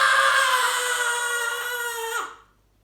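A girl's loud, sustained scream performed by a narrator during an audiobook reading of a children's novel, one long high-pitched cry that wavers and then breaks off abruptly.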